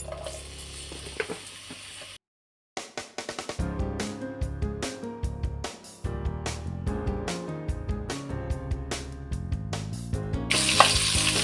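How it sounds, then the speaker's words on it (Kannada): Onions drop into hot oil in a pan after a brief silence and burst into a loud, close sizzle. Frying crackle and intermittent stirring scrapes follow. "ಈರುಳ್ಳಿ ಹಾಕ್ತೀನಿ."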